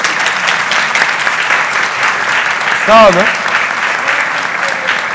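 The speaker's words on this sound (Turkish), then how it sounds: "Alkış alabilirim tabii." Loud, dense applause from an audience at a women's solidarity gathering in Safranbolu, continuous throughout, with a speaker briefly talking over it midway.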